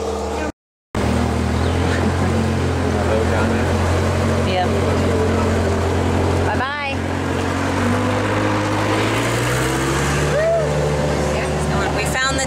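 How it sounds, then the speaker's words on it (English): A steady, loud engine drone of a working tractor runs throughout, with a brief dropout near the start and faint shifting tones. "Any tractor noise you hear is him working."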